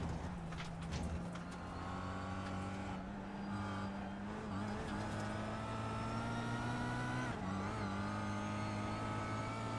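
From inside a touring car on a lap of the Lime Rock racing circuit, the engine drones loud and close, pitch climbing through the gears with brief dips at each shift.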